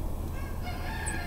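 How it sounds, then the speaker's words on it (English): Black Maran chicken clucking close by, a short throaty vocalization over a rough low outdoor background, with a faint high chirp near the end. "I hope you learned something about black Maran chickens"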